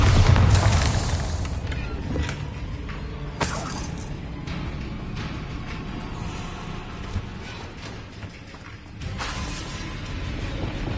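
Bombarda spell blasts in Hogwarts Legacy go off in a loud opening boom followed by several sharp explosive cracks and crumbling debris with glassy clinks, spaced over a rumbling game backdrop.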